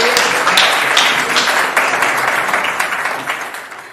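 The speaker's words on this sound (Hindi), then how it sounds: "जोरदार तालियां बजाकर आमंत्रित करें।" A crowd at a poetry gathering claps loudly to welcome a poet from Allahabad, a thick burst of applause that slowly thins and fades over several seconds.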